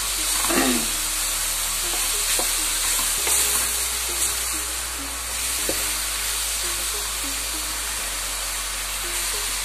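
Sausage pasta frying in a pan while being stirred, a steady loud sizzle and hiss with scraping stirring strokes and occasional clinks against the pan, close and continuous without talk.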